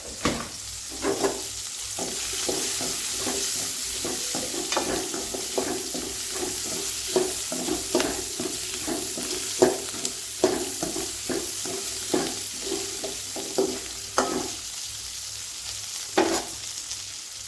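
Cinnamon and cloves frying in hot oil for a Kongu-style tomato kuzhambu, a steady close sizzle broken by repeated scraping stirs and clinks of a spoon against the pan, with no talking.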